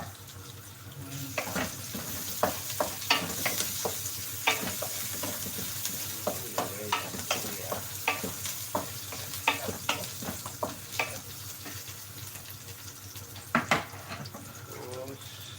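Ginger stir-fried for balbacua, a Filipino beef stew: a steady sizzle runs throughout while a spatula scrapes and taps the pan in irregular clicks, close and fairly loud, with no talking.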